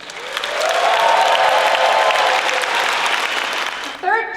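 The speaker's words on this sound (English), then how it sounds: "Give a round of applause." An audience at a Michigan Comic-Con cosplay contest breaks into loud sustained applause mixed with some cheering, which fades near the end as a voice begins over a microphone.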